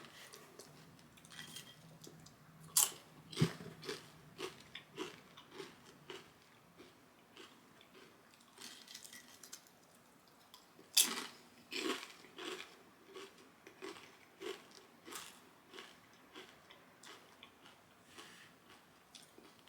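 Kettle-style potato chips crunched between the teeth in irregular bursts of crisp, dry snaps, close and fairly quiet, with softer chewing between bites and a few louder crunches.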